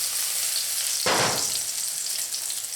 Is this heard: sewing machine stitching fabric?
no